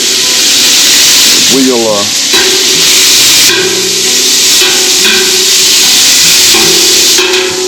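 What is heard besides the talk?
bacon sizzling in a hot pan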